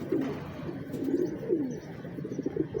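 Lanjat breed pigeon cooing in a loft, a low throaty warble repeated in several soft rolling phrases over a steady background hum.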